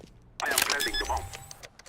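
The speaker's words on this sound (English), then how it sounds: "I am planting the bomb." In CS:GO, a C4 bomb is planted: a short, close burst of clicking, rustling and electronic tones lasting about a second after a brief quiet.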